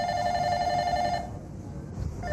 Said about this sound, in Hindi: जीरे का फोन है पाकिस्तान से।